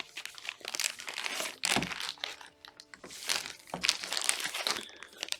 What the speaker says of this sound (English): to avoid danger of suffocation, keep this plastic bag away from babies and children.